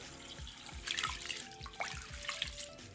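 Sticky rice being rinsed in water, soft sloshing and trickling with light splashes and drips, close and fairly quiet with no talk.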